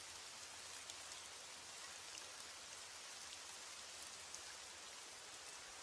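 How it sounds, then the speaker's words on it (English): Rain falling steadily, an even dense hiss of drops with occasional louder spatters, continuous and soft with no voices. "As the rain falls and the night deepens"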